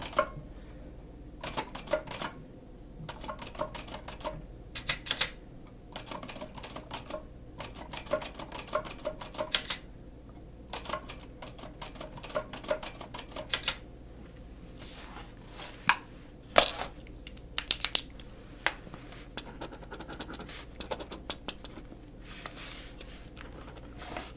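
Typewriter keys struck while a name is typed in an office setting, with irregular clusters of sharp mechanical clacks separated by short pauses and an occasional louder carriage or key strike, close and clear over a faint background hum.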